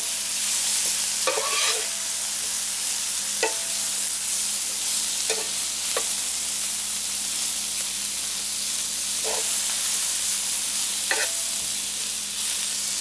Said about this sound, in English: we're just going to stir that up and let it cook together a little bit until the mushrooms are nice and tender